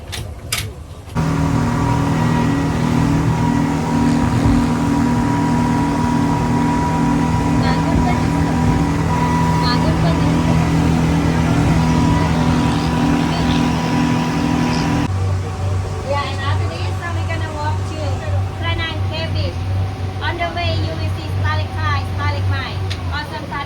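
A boat engine drones loudly and steadily during a short ride to Railay Beach in Krabi, Thailand, its pitch dropping partway through, with people talking over it.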